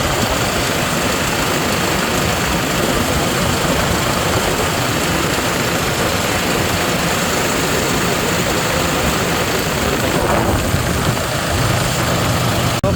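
A Toyota Hiace van engine idles steadily after an alternator pulley replacement, giving a continuous loud, even rumble with a faint whine and no voices.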